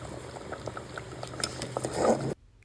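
Khichuri simmering in a pot in a home kitchen, a soft bubbling with small pops and a brief louder gurgle before it cuts off.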